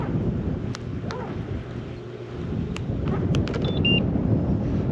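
Strong wind buffets the microphone beside the water at a carp fishing spot, a constant roaring rumble with a few faint high beeps and clicks over it.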